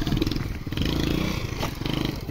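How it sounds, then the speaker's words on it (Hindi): A motorcycle arrives nearby with a rough, clattering engine note that rises and dips over a couple of seconds. "मोटरसाइकिल आ गया"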